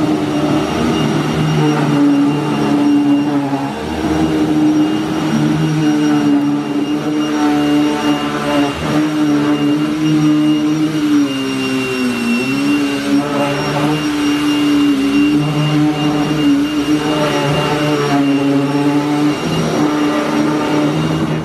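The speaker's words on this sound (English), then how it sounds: "you can definitely hear the difference in the vacuum. The brush is turning on it" A vacuum cleaner runs steadily over a large wool rug, a loud droning motor whine with a rough brushing texture from the turning brush that shifts slightly as it is pushed.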